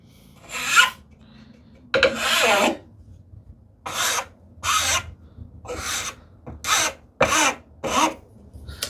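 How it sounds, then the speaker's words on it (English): A hand rasp and file work the corners of a wooden shoe tidy in repeated separate strokes, each a loud, dry, scraping rasp followed by a short pause. "I can take one shot with the file, but let me clean the rasp marks"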